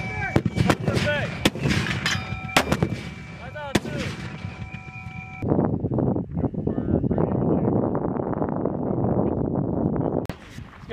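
U.S. Marines fire an M252A2 81mm mortar at Schofield Barracks, several loud booming launches with ringing metallic tails amid shouted commands, then a lingering outdoor rumble and wind noise.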